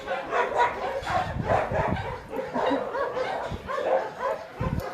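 A dog barks and yips repeatedly at close range, excited and uneven, mixed with whimpering sounds throughout.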